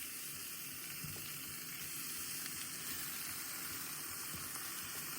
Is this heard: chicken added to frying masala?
yes